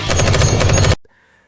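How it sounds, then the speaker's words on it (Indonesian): Heavy weapon gunfire in an anime battle as enemies try to break through a gate: a loud, rapid burst of automatic fire lasting about a second, then cutting off sharply to near silence. "Musuh-musuh itu nyoba ngebobol gerbang pakai senjata berat"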